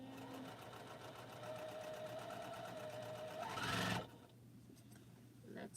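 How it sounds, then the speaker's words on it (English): A sewing machine stitches across quilt rows, running in a steady rapid whir that climbs briefly in speed before stopping abruptly, followed by quiet. "I'm going to actually stitch across my rows and hold everything in place so I don't have to worry about my seams being clipped"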